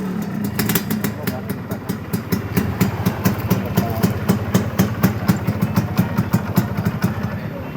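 A rare luxury motorcycle in Indonesia idles with a loud, even, rapid thumping pulse that holds steady for several seconds, close to the listener.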